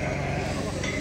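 Sheep bleat at a crowded Tuesday livestock market in Azrou, a loud, sustained bleat over a dense, noisy crowd background, with voices mixed in.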